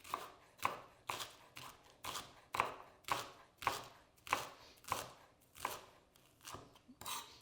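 A knife chops shallot on a cutting board, about a dozen close, crisp strokes falling in a steady, even rhythm.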